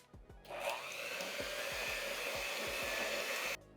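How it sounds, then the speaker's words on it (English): A hand mixer whirs at low speed through chocolate pumpkin loaf batter, a steady close motor drone lasting about three seconds with faint rhythmic scraping underneath, starting and stopping abruptly, no talking. "I'm gonna take a hand mixer and I'm gonna mix this on low speed at first"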